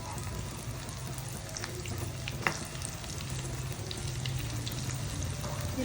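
Chili bajji fry in foaming, cold-pressed groundnut oil with a steady, dense sizzle and crackle that stays constant throughout, plus one faint clink.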